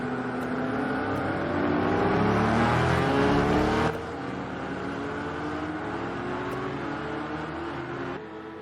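GTE race cars, a Corvette among them, roar at full throttle around the COTA circuit, a loud, sustained engine drone that swells briefly, then drops to a steadier lower note as the cars head toward the hairpin.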